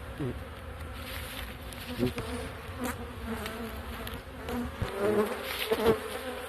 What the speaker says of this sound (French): Là, il y a pas mal d'abeilles.